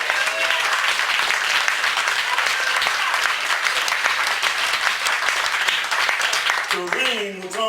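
A church congregation claps their hands in praise, dense and steady throughout, with a voice singing or calling out briefly near the end.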